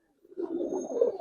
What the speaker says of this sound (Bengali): গলা কষা কবুতর